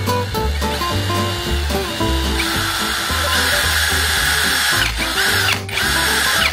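A BURKiN CSB201 cordless drill whirs loud and close, its motor pitch rising and falling as the trigger is squeezed through varying speeds in short bursts, with no talking over it.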